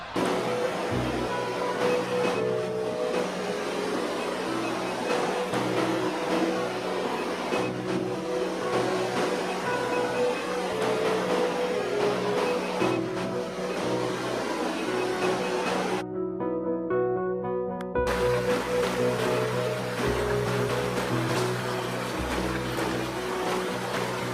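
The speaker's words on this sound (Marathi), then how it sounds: "वरून पडणारं जे पाणी आहे ते त्या कुंडात पडतंय" Steady, dense rushing roar of falling water, continuous and fairly loud, with a short tonal interruption partway through before the roar resumes.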